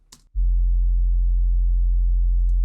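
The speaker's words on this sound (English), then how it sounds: "We have a nice sub, which again is the same sub preset that I always use" Hard, smooth synth sub bass preset entering abruptly after a brief soft noise, then holding one deep, loud, steady low tone without variation.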